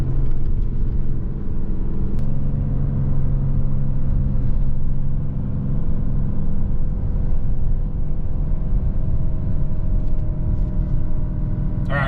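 A 2020 RAM 3500 HO dually pickup with Aisin transmission holds back on its exhaust brake going downhill, a loud, steady low diesel drone with a brief shift in tone as it downshifts; no talk.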